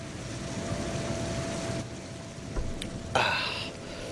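Steady, moderately loud rainfall in the video game Heavy Rain, a continuous wash of drops with a few brief louder splashes and knocks near the end.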